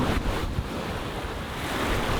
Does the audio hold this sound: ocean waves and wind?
yes